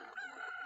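A chicken in the Ocarina of Time video game lets out a single short, strained squawking cluck, heard alone and fairly clearly.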